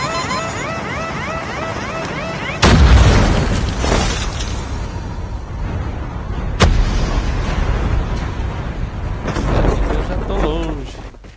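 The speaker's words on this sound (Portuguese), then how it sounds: "Mesmo assim o cara explodiu, não sei nem de onde." A loud explosion booms in the mobile shooter game Call of Duty Mobile, followed by ongoing gunfire and blasts that crackle and thud over several seconds. A second sharp bang comes midway, and the game's sound effects continue throughout.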